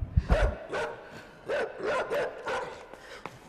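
In the video game Inside, a dog barks and growls in a series of harsh bursts, fairly close, spaced irregularly over a few seconds.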